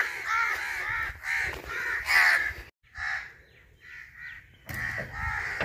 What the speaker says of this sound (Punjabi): ਦੇਖੋ ਕਾਂ ਆਉਣਾ ਸ਼ੁਰੂ ਹੋ ਗਏ